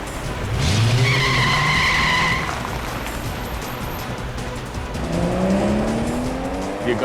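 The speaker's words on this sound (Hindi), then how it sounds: "ये गाड़ी इतनी तेज क्यों भगा रहा है अचानक?" A car speeds off with its tires skidding and squealing in two loud screeching bursts over a steady engine roar.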